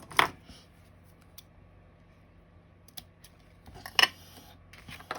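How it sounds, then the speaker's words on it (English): Scissors cutting ribbon for a handmade three-panel fun fold card, heard as a few sharp, close snips and clicks spaced irregularly across a quiet background, with no talking. "let's cut our ribbon"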